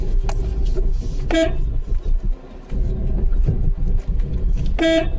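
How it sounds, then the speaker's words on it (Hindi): Two short car horn toots, one early and one near the end, over steady road and engine noise from traffic on a main road. "हॉर्न बजाना है जब सामने कुछ भी आ जाए"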